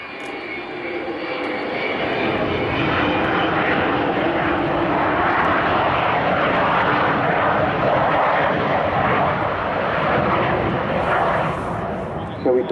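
Avro Vulcan XH558 bomber flying past at an airshow, a loud sustained jet engine roar that holds steady for over twelve seconds and eases slightly at the end, with a voice talking over it.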